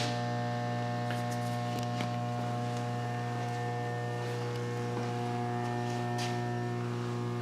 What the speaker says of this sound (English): Currently we just have a slug of steel in here just so we can build some pressure and show it operating.